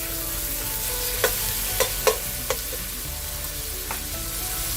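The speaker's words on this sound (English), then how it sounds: "I'm going to add the beef. You want to cook your beef down nicely." Beef and onions frying in a pot give a steady close sizzle, with several sharp spoon clacks against the metal as the meat is stirred, and no voices.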